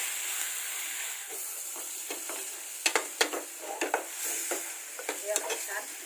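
Prawn masala with tamarind or kokum is stirred in a pan over a high flame, giving a steady close sizzle broken by sharp, irregular spatula scrapes and clinks against the pan.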